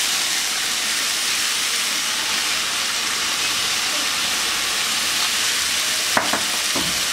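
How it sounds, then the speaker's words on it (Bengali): Vegetables and chicken frying in a pan, giving a loud, steady, hissing sizzle that fills the clip, with a couple of brief clinks near the end and no speech. "এবার সবজি আর চিকেনটা খুব সুন্দরভাবে ভেজে নেব।"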